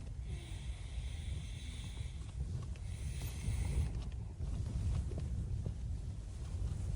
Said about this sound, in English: Wind's picked up, but it's tense, sturdy as anything.